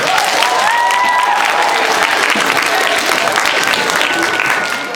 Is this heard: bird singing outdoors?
no